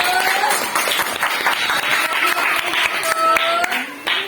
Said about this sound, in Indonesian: Oke, beri tepuk tangan kepada kelompok 1.